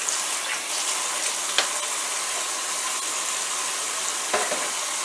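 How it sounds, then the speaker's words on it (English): Running water from a kitchen tap splashing over hands during meatloaf prep, a steady hiss with a couple of brief knocks, close and continuous. "I gotta wash my hand right quick."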